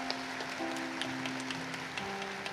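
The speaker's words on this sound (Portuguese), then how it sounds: "Dá uma salva de palmas para ele." A Catholic parish congregation at a closing prayer gathering gives a round of applause, soft even clapping spread across the room with a sustained held tone running beneath it.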